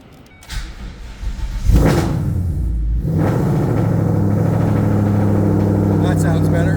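A car with a Ford MT82 manual transmission cranks and fires up, settling into a loud, close steady idle with a low rumble after the start.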